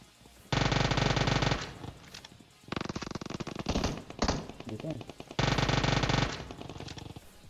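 UZI submachine gun fire in the mobile game PUBG Mobile comes as three loud, close, sustained rapid-fire bursts of about a second each, separated by quieter in-game footsteps and clatter.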